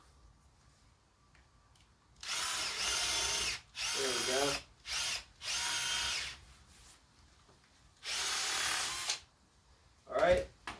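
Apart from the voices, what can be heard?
electric drill boring a drain hole with 1/2-inch bit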